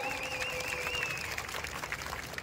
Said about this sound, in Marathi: असा हा हुशार ब्रुनो, याच्यासाठी पुन्हा एकदा जोरदार टाळ्या वाजवा.